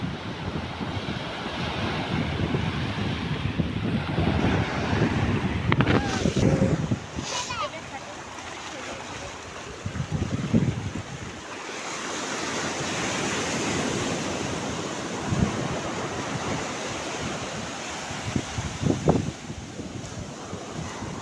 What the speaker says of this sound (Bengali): সমুদ্রের গর্জনে হয়তো আমার কথা বোঝা যাবে না, যে এতই স্রোত, এতই ঢেউয়ের প্রসঙ্গ বেড়েই চলেছে।